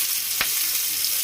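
Crab pieces frying in hot oil on a flat griddle pan in a village kitchen, giving a steady, close hissing sizzle broken by one short clatter early on.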